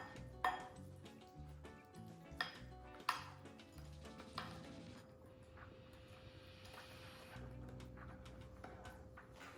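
Spoon scraping and clinking against a bowl while mixing powdered sugar into a cookie dough dip, with several sharper knocks over a steady soft scraping bed.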